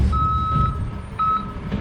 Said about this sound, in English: of course there's got to be a garbage truck when I'm filming